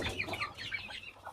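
Grey chickens and guinea fowl cluck together in a short, quiet burst of overlapping chirpy calls over low background hum, with no talk.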